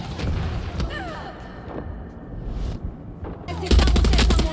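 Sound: gunfire in the video game Far Cry 6

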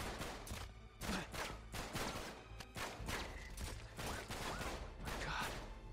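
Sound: gunfire shooting at the player in Uncharted 3 video game

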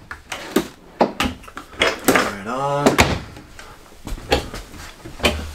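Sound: RV kitchen drawers opening and closing

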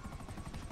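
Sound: helicopter in video game GTA 5

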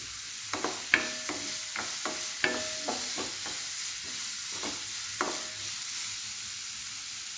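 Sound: onion and green chilli being sautéed in a pan

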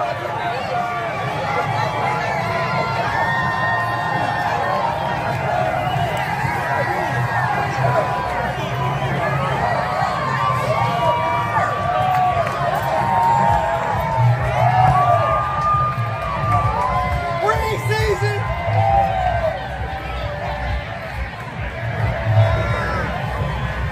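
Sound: crowd at Las Vegas Aces championship parade

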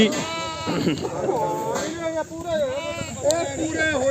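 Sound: goats bleating at a goat market

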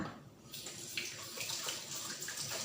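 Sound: washing hands under running tap water

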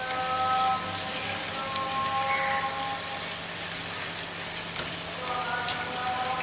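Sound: dry curry leaves sizzling as they fry in a pan

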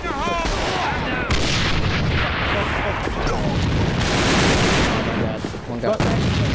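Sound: grenade explosion in the video game A.V.A

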